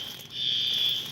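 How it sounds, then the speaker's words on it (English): A building fire alarm sounds a steady, piercing high electronic tone that holds for about a second, loud and continuous without other sounds. "It's definitely time to go because they doing a fire alarm"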